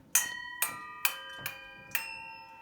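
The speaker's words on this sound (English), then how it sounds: "Here's a nice set of dinner bells." A set of individual hanging dinner bells is struck one at a time, five clear ringing strikes spaced about half a second apart, each with a bright attack and a lingering tone, close and alone.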